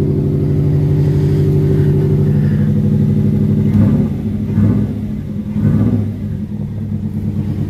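A Subaru Liberty engine revs after a fuel pump upgrade, a loud steady idle rumble close by that rises in two brief throttle blips before settling back.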